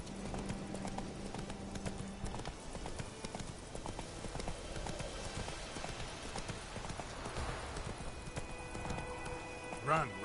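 Horse hooves gallop in The Witcher 3, a steady clip-clop rhythm running throughout under other game sounds, with a brief whinny near the end.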